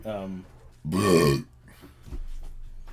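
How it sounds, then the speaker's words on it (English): A single loud, throaty burp bursts out between short stretches of casual talk. "I just burped right in your face."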